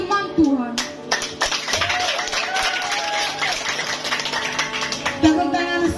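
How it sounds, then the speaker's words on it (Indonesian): Applause and clapping from a church youth jamboree audience for a contestant, with voices and tonal sounds mixed in throughout. "Tepuk tangan sekali lagi untuk Rita."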